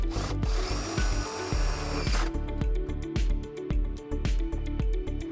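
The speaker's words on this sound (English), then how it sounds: "we're going to take our provided self-tapping screw to ground our white wire" A power drill drives a self-tapping screw into the metal body of a 2017 Mazda CX-5 to ground a trailer wiring harness, a loud whirring spin followed by a rapid stuttering series of clicks and grinding bursts.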